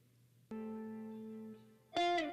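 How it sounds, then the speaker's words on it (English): A lofi sample played through a preset with distortion drive and reverb: a sustained buzzy tone for about a second, a pause, then a brighter, richer chord swelling and ringing out. "this preset is looking like it has a driver and a space maker, which is a reverb, and the driver is distortion."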